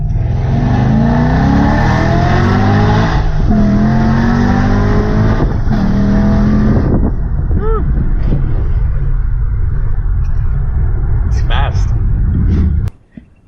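A loud Chevrolet C10 pickup engine revs hard, its pitch climbing as it accelerates, roaring steadily before cutting off abruptly at the end.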